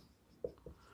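Writing on a board during a physics lecture produces two quick, soft taps a moment apart, faint against a quiet room.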